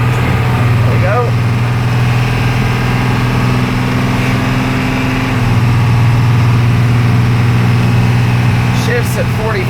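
A 1988 Blue Bird International S-1800 school bus with a DTA360 diesel engine drones steadily while driving, a loud continuous low hum with a slight pitch shift midway, steady throughout and close, with no talk.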